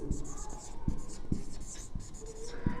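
Chalk or marker writing on a classroom board, a run of short scratchy strokes with sharp taps at irregular intervals, close and clear.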